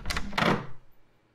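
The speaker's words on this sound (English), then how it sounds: "The door is open." A door opening nearby in a quiet room: two close thumping knocks of the latch and frame, followed by a short fading rustle, with no voices.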